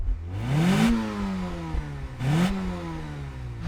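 A 1.6-litre 16-valve VW Golf GTI engine revs up twice from idle, climbing quickly in pitch each time, then settling back to a steady idle between blips.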